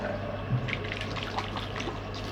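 Water runs from a kitchen sink tap while hair is rinsed, a close, steady splashing stream with small irregular drips and gurgles over a low hum.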